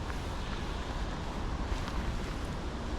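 Steady, loud gusting wind buffets the microphone outdoors on a blustery 18-degree day in Auckland before a Lime scooter ride, a constant broadband roar with no other sounds.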